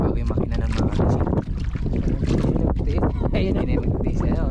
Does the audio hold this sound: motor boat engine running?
yes